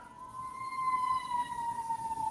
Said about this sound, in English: think I heard a siren.